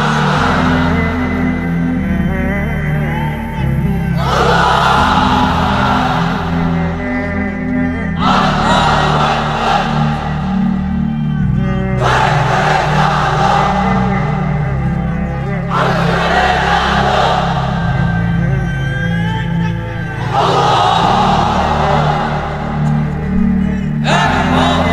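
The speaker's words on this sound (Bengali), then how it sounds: "এবার অবিবাহিতরা দাও লিল্লাহি তাকবীর।" A large crowd of unmarried men at an Islamic religious gathering shouts "Allahu Akbar" in unison, loud roaring bursts of about four seconds repeating several times, the chant swelling and dropping between calls over a steady background murmur.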